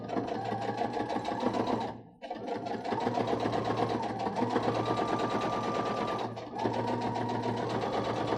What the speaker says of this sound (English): We're going to sandwich it right on top and stitch again, starting right from this line and straight down.